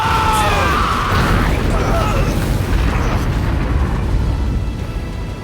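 Bakugo's explosion in the My Hero Academia fighting game erupts as a loud, sustained booming blast with a roaring rumble that slowly fades, accompanied by a strained shout near the start.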